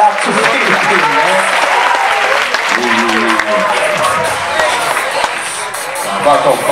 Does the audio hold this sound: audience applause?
yes